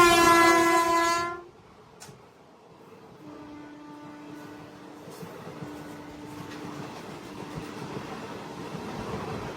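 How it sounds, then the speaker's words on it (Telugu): The Aurangabad-Guntur express passes during a crossing, opening with a loud, sustained horn blast, then a long rolling rumble and clatter of coaches that builds gradually and carries on steadily. "ఔరంగాబాద్ గుంటూరు ఆ బండితో క్రాసింగ్ అనుకుంటున్నాను నేను"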